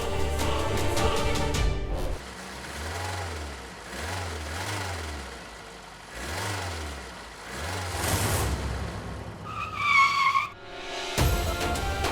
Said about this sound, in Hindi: यू टर्न ले गाड़ी, यू टर्न ले, जल्दी घुमा गाड़ी।